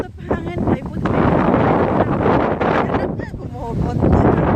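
Steady wind buffets the microphone on an open hillside, a loud broadband rush that swells and eases throughout, with people talking over it.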